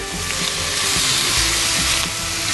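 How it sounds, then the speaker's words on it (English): Borlotti beans, chilli and bacon sizzle in a pan, a steady close hiss of frying with soft stirring knocks and scrapes underneath, continuous and without speech. "Oh, you can hear that sizzle."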